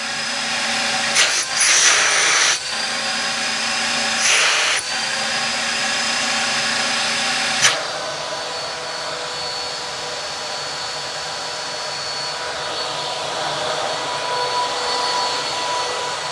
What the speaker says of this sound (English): I was clearly hearing the suction relief valve going, which means it's now active again